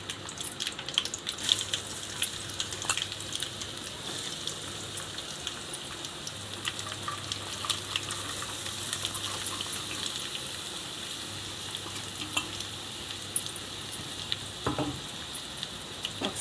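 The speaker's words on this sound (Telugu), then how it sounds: "దొండకాయ ముక్కలు వేస్తున్నాను." Pieces of ivy gourd sizzle and fry in hot oil tempering, a steady close crackling hiss with occasional stirring scrapes and no talk.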